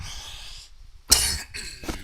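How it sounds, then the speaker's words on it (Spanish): A single sharp cough bursts out after a quiet pause, followed by a softer second cough or throat noise, close and fairly loud in a room during a class. "todavía tengo algo de tos"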